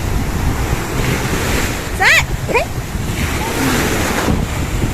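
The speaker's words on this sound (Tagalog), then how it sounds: "Malakas na yung alon!" Strong ocean surf at the seaside rumbles and washes steadily with heavy wind noise on the microphone, while people shout briefly over the crashing waves.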